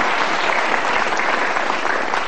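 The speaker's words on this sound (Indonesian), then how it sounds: "Tepuk tangan luar biasa dulu buat Pak Frans." Sustained, dense applause from an audience fills the space evenly, a loud continuous wash of clapping for Pak Frans at a motivational talk.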